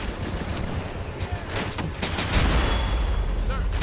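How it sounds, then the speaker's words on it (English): Japanese soldiers firing on a position in the WWII game Men of War: Assault Squad 2, set on Saipan in 1944, with rapid overlapping rifle and machine-gun shots in a loud, continuous barrage. "They're shooting at us."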